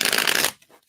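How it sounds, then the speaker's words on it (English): Tarot cards from a Craft Cards deck riffle-shuffled up close, a dense continuous flutter of card edges for about half a second, then cutting off to near silence with faint handling afterward. "going to shuffle the cards for all free readings"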